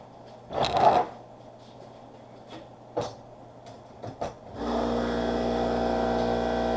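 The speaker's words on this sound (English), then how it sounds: "Compressor kicking on, of course." In a workshop where a Model A running board is being restored, a few scattered clunks and knocks give way to an air compressor motor kicking on, settling into a steady, loud, droning hum that continues to the end.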